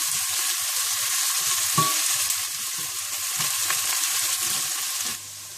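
Onions sizzling steadily in hot oil in a pan, a dense crackling hiss with a few faint stirring knocks, close and continuous, with no talking.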